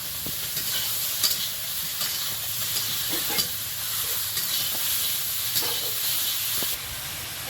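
Chopped tomato sizzles in a pan over a wood-fired clay stove, a steady hiss broken by repeated scraping stirs at an uneven rhythm, close and fairly loud with no talking.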